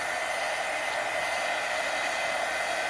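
Crafting heat tool blowing hot air for card making, a steady, even whoosh that holds at the same level throughout with no pauses and no talking.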